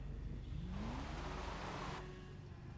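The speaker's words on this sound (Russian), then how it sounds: "А чё это за мотик? Это Акума." A continuous engine drone from an Akuma motorcycle ridden in a GTA-style video game, with one rising rev sweep partway through, steady and fairly loud throughout.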